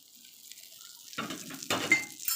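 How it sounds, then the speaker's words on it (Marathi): Hot oil is poured into flour for kachori dough, heard up close as a couple of abrupt sizzling splashes that rise out of near silence and fade into a soft crackle. "गरम तेलाचं मोहन असं पिठात ओतून घेऊया"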